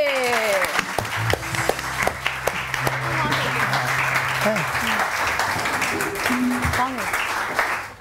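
Studio audience on a morning talk show applauds with sustained, dense clapping that fills the whole stretch, while voices talk and call out over it.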